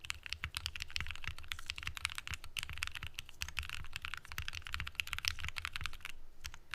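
Rapid typing on a rebuilt Electrotype60 mechanical keyboard with stripped plate-to-case screws gives dense, close clacks in quick uneven rhythm, stopping briefly near the end, with no talking.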